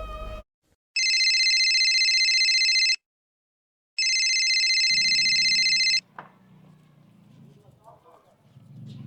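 Two long electronic phone rings, each about two seconds with a pause between, loud and alone, followed by low background rumble and rustle in a Haryanvi family comedy drama scene.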